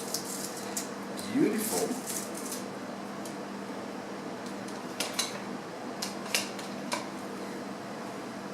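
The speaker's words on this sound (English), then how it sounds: "And then I cut some scallions." Scallions sliced with a knife while making chilli, a few light, sharp taps on a cutting board in short bursts against a low fan hum, with a brief spoken word.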